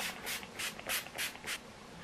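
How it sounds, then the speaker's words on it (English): Urban Decay All Nighter setting spray misted in a handful of short, soft hissing spritzes, quiet and close with brief gaps between each burst. "Then we'll finish up with the Urban Decay All Nighter Spray."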